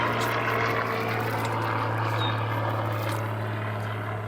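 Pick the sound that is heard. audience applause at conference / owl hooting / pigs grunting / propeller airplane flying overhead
propeller airplane flying overhead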